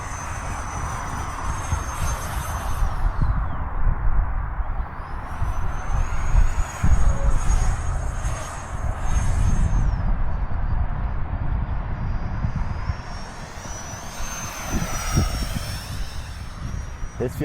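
An FMS Yak-130 70mm V2 radio-controlled jet flies overhead, its ducted-fan whine rising and falling in pitch as it passes. Steady wind rumble runs underneath, and the whine fades and returns over the stretch.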